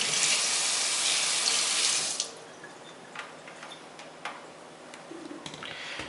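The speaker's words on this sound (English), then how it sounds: "I'm going to go ahead and rinse this off real quick." Running tap water rinses a smoked pulled pork dish, a steady loud gush for about two seconds, then the faucet stops, leaving faint clinks and small handling noises.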